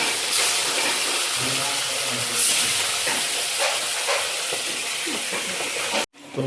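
Chitol fish frying in hot oil in a village kitchen, a steady loud hiss and sizzle running throughout with faint crackles, cutting off abruptly near the end.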